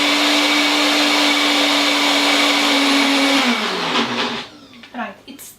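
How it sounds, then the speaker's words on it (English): A blender whirs at high speed through thick raw tahini dressing, a loud steady hum that winds down and stops, leaving a few clinks and knocks. "So we're gonna blend it once again."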